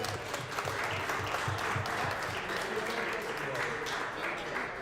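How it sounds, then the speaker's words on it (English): A crowd applauds and cheers for volleyball coach Carrie Corley at a championship celebration, with dense sustained clapping and voices mixed in throughout. "So let's clap it up for Carrie."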